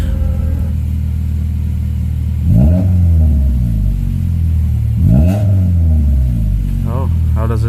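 A 1998-2002 Honda Accord engine revved up twice in quick succession, each rise and fall clear and close, with a shorter blip near the end and a voice speaking over the idle.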